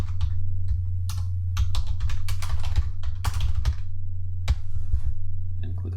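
Someone types a file name on a computer keyboard: quick, uneven bursts of close key clicks with short pauses, over a steady low hum.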